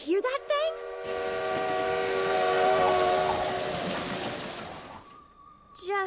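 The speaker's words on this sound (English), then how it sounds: "Dad, did you hear that spooky train whistle this morning?" A long, eerie train whistle sounds loud and sustained with several steady tones, rising at the start and held for about four seconds before cutting off, within a spooky scene of the cartoon Mona the Vampire.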